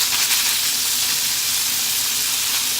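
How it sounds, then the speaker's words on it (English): Sausage browning over medium heat in a pan for sausage gravy, giving a steady, close, continuous sizzle and hiss with no talking. "we're going to start adding the other ingredients in probably another minute once this is mostly cooked and browned."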